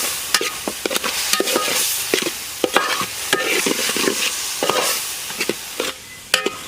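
A spoon scraping and stirring onion, tomato and green chilli in a hot pan for a Kerala river-fish curry, with rhythmic clacks over a soft background sizzle.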